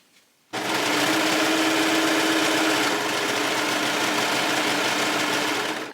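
A sewing machine stitches a dress side panel to the front piece, starting after a brief quiet moment and then running in one steady, loud, continuous burst close by.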